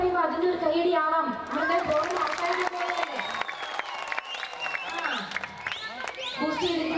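An audience at a stage show claps and cheers, with the sound boosted through the PA, under a loud mix of voices and music.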